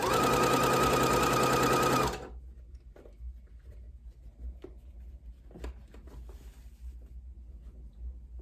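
A sewing machine stitches fabric for a scrunchie in a close, rapid whirring burst of about two seconds, then stops, leaving faint soft handling noises.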